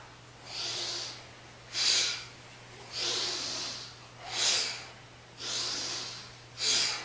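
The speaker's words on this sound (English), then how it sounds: "Inhaling up, exhaling down" Strong audible breaths during a Kundalini exercise, six forceful inhales and exhales in a steady alternating rhythm through the nose, close and airy over a faint background hum.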